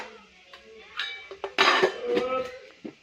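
A metal lid is set onto a cooking pot in a home kitchen, giving a few close clinks and a short clattering rattle against the rim.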